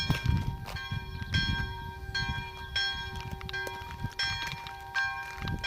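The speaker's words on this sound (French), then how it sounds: "Tu vois la cloche qui sonne là, tu la vois?" A church bell rings for the Holy Thursday evening mass, its strokes repeating with a lingering hum and heard from some distance over low outdoor rumble and faint footsteps.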